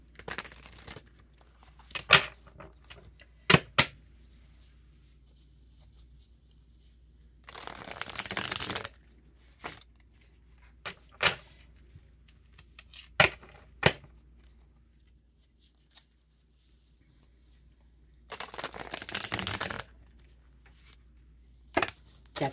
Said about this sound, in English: Deck's hard to shuffle that way.